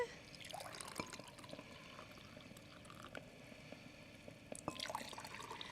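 A hot drink is poured into a cup while making a cappuccino, a quiet, steady trickling and splashing of liquid with a few small drips and clinks.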